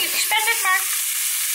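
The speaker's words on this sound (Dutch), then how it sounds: "Ondertussen heb ik alweer lekker worstjes in de koken." Chicken sausages fry in a pan with a steady, bright sizzle that continues throughout, while someone speaks briefly over it.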